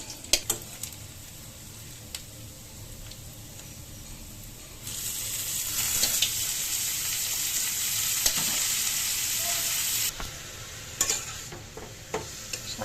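Tempering sizzles hard in a pan of frying leafy greens: a loud, steady hiss that swells midway and holds for several seconds, with stirring scrapes and clinks before and after.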